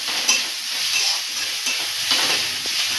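Onion with ginger, garlic and green chilli paste fries in a pan for an Odia koltha dalma, giving a continuous close sizzle with faint stirring scrapes and no voices.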